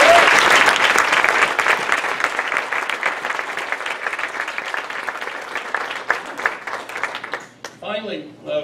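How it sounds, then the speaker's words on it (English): Audience applause at a theatre awards ceremony, dense steady clapping that gradually thins and fades before a voice begins speaking at the end. "So let's have a round of applause."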